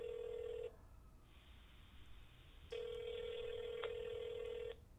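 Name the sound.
telephone call ringing out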